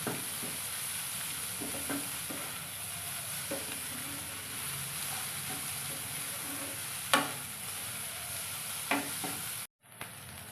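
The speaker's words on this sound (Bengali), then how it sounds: "এটাকে তাপটা বাড়ি দিয়ে ভালোভাবে ভেজে নেব" Egg, potato, onion and tomato frying in a pan over raised heat for leftover-rice fried rice, a steady close sizzle with scattered stirring scrapes and taps throughout, ending in a short break.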